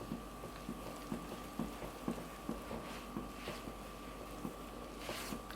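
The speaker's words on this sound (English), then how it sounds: "I'm going to mix this with my hands" Vegan mushroom burger mixture with Brazil nut milk and Perrier being mixed by hand: faint, soft, squishy pats recur at a steady rhythm under a low background hum, with no talking.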